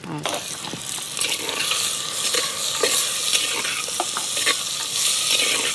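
Boiled raw papaya tossed in a hot pan with dried red chillies for a papaya poriyal, giving a steady close sizzle with frequent scraping and clinking stir strokes throughout.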